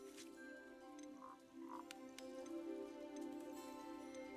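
Toads in the video game Hogwarts Legacy give a few soft croaks over a quiet, sustained tonal game ambience, faint and spaced out.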